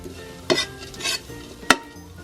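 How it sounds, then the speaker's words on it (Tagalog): Dried anchovies stir-fried in a pan, with a few quick scraping and clinking strokes of the utensil against the metal, one sharper knock near the end and no talking. "Magsasangag ako ng dilis kabsat"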